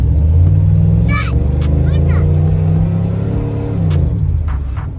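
A truck with a 4L60E transmission accelerates, its loud engine note holding steady and then climbing in pitch as it pulls away, with a faint gear shift near the end.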